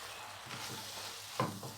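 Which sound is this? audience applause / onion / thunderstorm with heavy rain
onion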